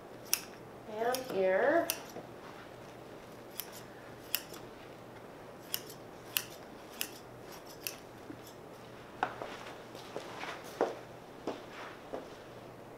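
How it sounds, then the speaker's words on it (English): Scissors trim upholstery fabric along the back edge of a wing chair, making a string of crisp, close snips spaced about a second apart. A brief voice speaks near the start. "On the back, I'm just going to trim, so again, I just have a little bit to go around my edge"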